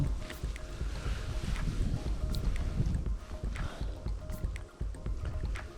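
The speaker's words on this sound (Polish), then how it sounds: "Mocno wieje, mocno." Strong wind gusts over open water on a lakeshore while fishing for pike, a steady loud roar with low rumbling buffeting on the microphone throughout, plus faint splashing and drips.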